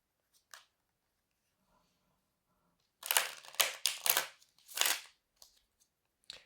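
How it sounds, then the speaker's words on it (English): Tarot cards are shuffled by hand in a quiet room: a faint tap or two, then a close cluster of crisp, papery riffling bursts and a final short flutter. "Just shuffling the cards a little bit, give them some energy."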